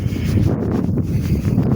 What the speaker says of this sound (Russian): Ветер опять.